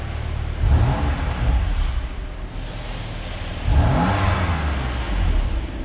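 A 2020 BMW M2 Competition engine revving twice, rising in pitch each time before settling back to a low, steady idle rumble, heard close by without voices.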